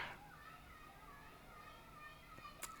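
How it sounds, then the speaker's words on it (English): Children play outside in the distance, their faint shouts and chatter drifting in as a soft, continuous background with one brief sharp sound near the end. "You can hear all the kids playing outside."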